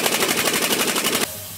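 A Sanborn air impact wrench rated at 300 foot-pounds hammers loudly in a rapid, continuous burst on a tight tire nut, then cuts off abruptly, leaving quiet background hiss.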